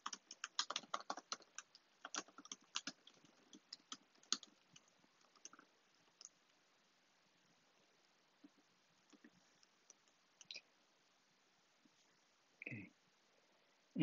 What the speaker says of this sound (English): I'm going to type something.